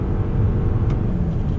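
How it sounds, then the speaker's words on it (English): Muffled, steady engine and road rumble inside a 2021 Toyota Venza hybrid SUV under full-throttle acceleration, heard close with no talking over it. "we're going to do acceleration test on throttle"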